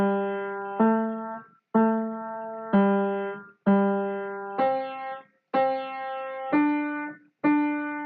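Piano exercise with the right hand starting on C and the left on G, eight evenly spaced, clearly struck two-hand notes that ring and decay one after another at a steady moderate tempo, close and unaccompanied.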